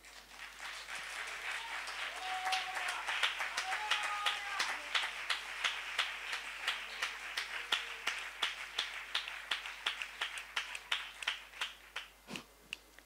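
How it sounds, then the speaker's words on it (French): A church congregation applauds together in worship, a dense steady clapping that swells and then breaks into a strong rhythmic beat of unison claps toward the end, with a few voices calling out early on. "On acclame le Seigneur."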